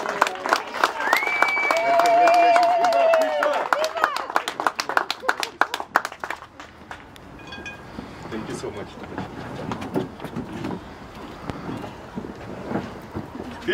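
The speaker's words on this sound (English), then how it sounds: "let's give him a round of applause" A crowd at a political event in Midvaal claps and applauds to welcome a mayoral candidate. The clapping is dense and loud at first, then thins into scattered claps and crowd murmur.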